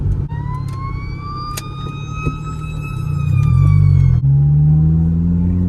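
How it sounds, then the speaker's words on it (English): A siren wails with steady rising-and-falling harmonic tones over loud road rumble as an ambulance drives past, the engine noise swelling near the end. "An ambulance coming by"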